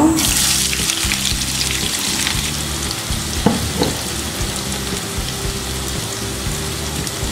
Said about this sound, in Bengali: তেল গরম হয়ে এসেছে এবার তেলের মধ্যে আমি পেঁয়াজ কুচিগুলো দিয়ে দিব